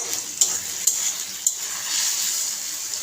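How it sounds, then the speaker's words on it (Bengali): Potatoes for a homemade spring roll filling stirred and mixed in a pan: a soft constant hiss of frying with three sharp utensil knocks in the first half, close and moderately loud, no voices. "নেড়ে মিশিয়ে নেব।"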